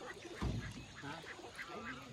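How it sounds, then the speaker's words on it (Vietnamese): Flocks of birds returning to roost among bamboo thickets at the Thung Nham bird garden give off a faint, busy chorus of quacking and honking calls against steady outdoor background noise. "Vườn chim nó về tổ."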